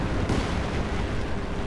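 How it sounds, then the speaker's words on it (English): Heavy weapons fire and explosions in the World War II strategy game Company of Heroes 2, a German battle over an industrial area, forming a loud, continuous rumbling barrage with no clear gaps. "Discharge your weapons."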